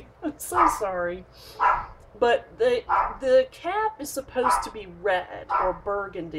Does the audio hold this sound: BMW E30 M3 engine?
no